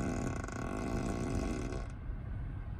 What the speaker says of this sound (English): If I click the whoopee cushion, I can select a seat in the vehicle and it will fart.